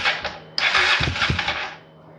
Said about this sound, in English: New solenoid. Will start the engine, go at it.